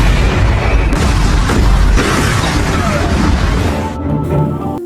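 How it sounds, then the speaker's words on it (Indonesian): A house is blown up in a film scene, bringing a loud, sustained booming explosion with heavy low rumble and crashing debris that fades out near the end. "meledakkan rumah targetnya"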